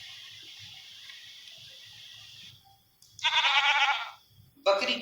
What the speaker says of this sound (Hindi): बकरी की आवाज।